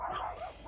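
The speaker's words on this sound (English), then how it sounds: "But I have some dogs. You can probably hear them in the background." Pet dogs barking faintly in the background, a brief, distant yelp-like call over a low steady hum.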